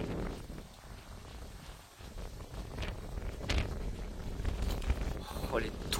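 Strong gusty wind buffeting the microphone while a tornado is filmed, rough low rumbling gusts rising and falling, with people talking over it.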